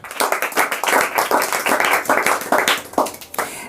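Classroom students clapping together for a correct quiz answer, a dense, steady burst of hand claps lasting a few seconds, close and loud, with no talk over it.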